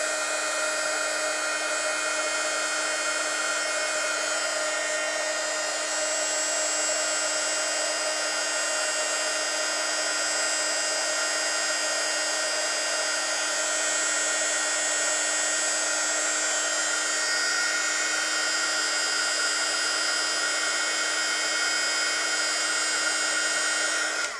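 A heat embossing tool blows over a stamped card with a steady, loud whirring hum, unbroken for the whole stretch with no speech over it.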